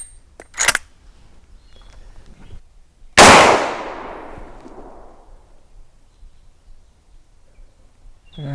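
A single loud shot from a Marlin Guide 45/70 rifle at a sighting-in range cracks sharply and rolls off in a long fading echo, with faint handling clicks beforehand.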